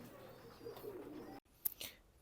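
Soft, low cooing murmurs of a young pair of Kamagar pigeons in a quiet space, faint and close, followed after a brief gap by a couple of sharp clicks and rustles.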